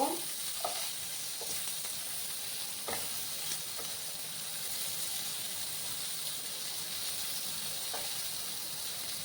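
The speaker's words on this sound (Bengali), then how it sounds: "2 মিনিটের মতো আমি এটাকে একটু ভাজা ভাজা করে নেব।" Potato, capsicum and paneer fry in a hot pan with a constant close sizzle and a few faint stirring clicks, with no talk.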